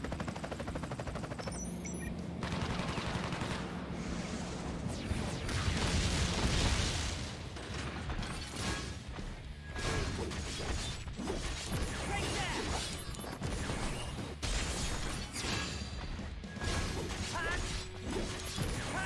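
Airstrike attack in the video game Crisis Core: Reunion, a dense barrage of loud gunfire-like bursts, crashes and explosive impacts layered over game music and mechanical effects, continuous through the clip.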